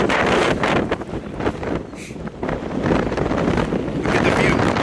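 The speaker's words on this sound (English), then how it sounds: "It's windy." Gusty wind roars across the microphone on an exposed mountain trail near Sam's Knob on the Art Loeb Trail, a loud, continuous rushing with uneven surges that barely eases.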